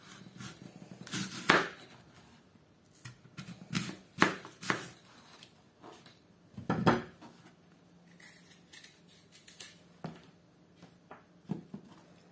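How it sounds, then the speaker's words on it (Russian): A knife slices apples into thin wedges on a board, producing scattered crisp cuts and clicks at irregular intervals between quiet pauses, close and fairly soft. "Сейчас будем нарезать яблоки. Яблоки надо будет нарезать дольками."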